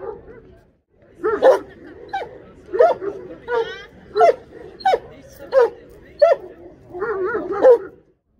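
A nine-month-old Alabai, a Central Asian Shepherd dog, barks in a rapid series of sharp, loud, close barks and yelps at a dog testing tournament in Balkanabat.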